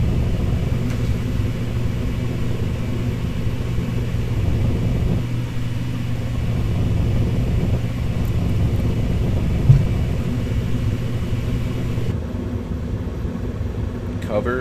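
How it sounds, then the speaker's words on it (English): A furnace blower runs steadily as a furnace for melting sterling silver heats up, a continuous low rumbling roar throughout that drops slightly near the end, with one brief click. "Here we're going to turn the blower on."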